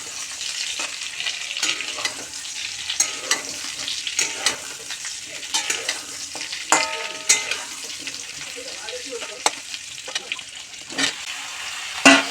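Ridge gourd goes into a pan of frying potatoes and is stir-fried, giving a sizzle with repeated scraping and clattering stir strokes at close range.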